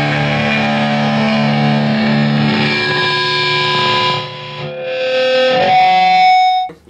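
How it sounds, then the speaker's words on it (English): An electric guitar set to maximum distortion rings out sustained, heavily saturated notes with a thick buzzing edge, one held chord swelling then dipping and returning near the end, loud and alone. "you're going to want to be on maximum distortion"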